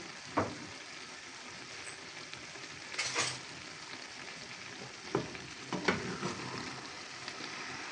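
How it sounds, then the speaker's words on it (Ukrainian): Eggplant, carrot and tomato stew is stirred in a pan, a soft continuous simmering sizzle under a few scattered spoon scrapes and clinks against the pan, no talking. "Ось так я все добре перемішую."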